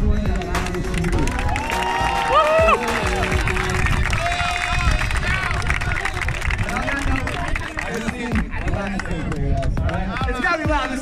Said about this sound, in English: It's gotta be loud, this is a huge crowd